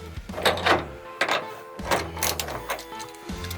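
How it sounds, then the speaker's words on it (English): The clamp of a Diamondback truck bed cover is tightened onto the bed rail in a series of short, close mechanical ratcheting bursts separated by brief pauses. "next step is going to be tightening down the setter clamp"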